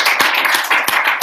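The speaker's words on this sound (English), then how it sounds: "So let's give a round of applause to Dr. Seth Bordenstein." A small group claps in a scattered, uneven rhythm with close, distinct individual hand claps.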